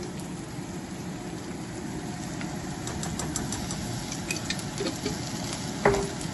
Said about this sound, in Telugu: ఇప్పుడు ఒక త్రీ ఫోర్ మినిట్స్ నుంచి మగ్గుతున్నాయండి ఆనియన్స్